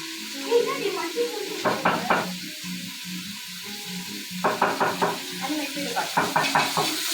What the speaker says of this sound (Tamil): இந்த ஆனியன் வந்து நல்லா வதங்கிக்கிட்டு இருக்கு.